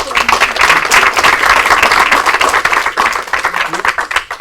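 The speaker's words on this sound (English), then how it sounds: "Let's give a round of applause." Audience at a community town meeting about street renovations breaks into a loud round of applause, dense clapping that swells then thins out over a few seconds, with a voice faintly underneath.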